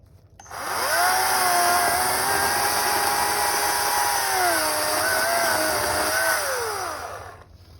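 A chainsaw cuts firewood with a loud, close, steady engine whine. The pitch dips and rises as the chain bites through the wood for about seven seconds, then the saw winds down.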